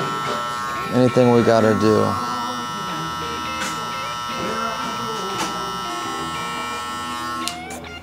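Hair clippers with no guard and the lever open buzz steadily and up close during barbering of a burst fade with a mullet, while someone talks briefly over the early part.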